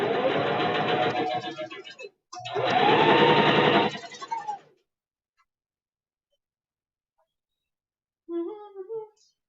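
A sewing machine runs in two loud continuous bursts while stitching a shirt, its motor whirring steadily for about two seconds each with a brief pause between, then silence and a short bit of speech near the end.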